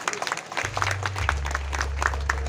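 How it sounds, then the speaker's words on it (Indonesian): An audience claps at a regency government closing ceremony in Kebumen, with scattered, moderately loud clapping under a steady low hum from the sound system. "Tepuk tangan buat Pak Dandim."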